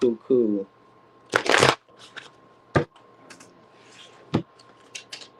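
Tarot cards being riffle-shuffled in one dense, crisp burst, followed by a few lighter taps and flicks. A brief voice sounds at the very start.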